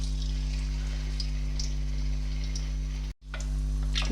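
Potato-stuffed aloo kachori frying in a small kadhai of hot oil gives a steady, close sizzle with scattered crackling pops, continuing with a brief dropout near the end.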